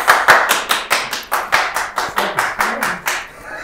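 Clapping of only a few hands at a Japanese baseball talk show, about a dozen sharp, evenly paced claps, close and fairly loud, fading out at the end with no voices over it.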